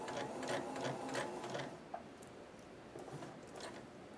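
A sewing machine stitches fabric for a seventh-grade sewing project, running in steady fast bursts up close, with a brief pause as it pivots at a corner before resuming the even mechanical whir.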